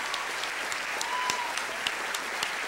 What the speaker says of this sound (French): qu'on applaudit bien fort parce qu'ils ont fait un travail extraordinaire cette année